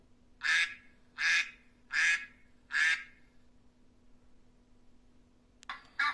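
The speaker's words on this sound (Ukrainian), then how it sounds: "А як закахкали качки?" Four loud, evenly spaced duck quacks close by, then quiet, with a faint start of another sound at the very end.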